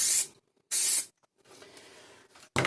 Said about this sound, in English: Okay, so spray adhesive first. Just going to spray there.